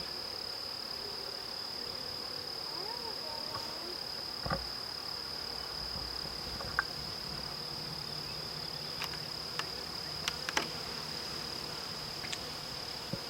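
Honey bees buzzing during a hive inspection, a steady high insect drone that runs throughout, with scattered faint clicks and knocks from handling the frames.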